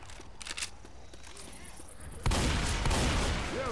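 Gunfire in the video game Left 4 Dead 2, a loud sustained burst of shooting that starts abruptly partway through. Quieter game sounds come before it.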